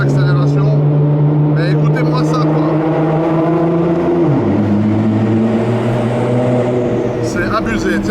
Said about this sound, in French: je vais faire une petite accélération. Mais écoutez-moi ça quoi.